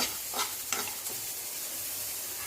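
Homemade masala spices dry-roast in a pan with a couple of quick stirring scrapes early on, then a soft, steady sizzle and rustle close by.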